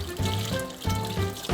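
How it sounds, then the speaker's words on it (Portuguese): Orchid roots rinsed under running tap water, a continuous close splashing and trickling with rhythmic surges as the roots move through the stream. "é bom lavar em água corrente, numa torneira"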